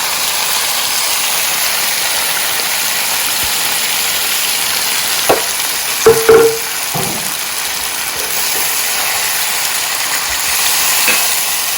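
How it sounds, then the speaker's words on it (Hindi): Tomatoes frying over medium heat in a pan, a loud continuous sizzle with a few brief stirring knocks and scrapes in the middle, no talking. "इसको बहुत अच्छी तरह इस वक्त भूनना है"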